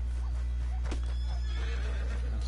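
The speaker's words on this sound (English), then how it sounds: "I just bought a new horse, bro. A white Arabian." A white Arabian horse in Red Dead Redemption 2 Online whinnies and neighs over steady background hum, with a few clip-clop hoofbeats mixed in; no talking.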